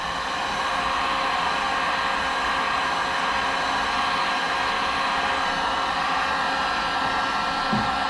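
A heat gun blows hot air onto a Ram pickup's plastic headlight lens, giving off a loud, steady, unbroken whooshing roar at close range.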